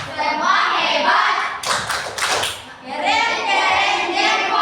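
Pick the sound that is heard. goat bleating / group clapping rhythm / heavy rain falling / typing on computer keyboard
group clapping rhythm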